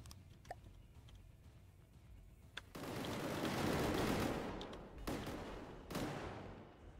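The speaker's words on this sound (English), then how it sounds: "Gatling gun." A Gatling gun opens fire in the combat game From The Depths: a loud, sustained burst that swells and then fades, broken by a few sharp individual cracks, with no talking.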